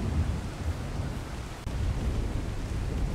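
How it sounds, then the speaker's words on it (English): A thunderstorm in Ark: Survival Evolved, heard as a dense, steady low roar of rain and rumble lasting several seconds, with no talking. "It's all dark and stormy now."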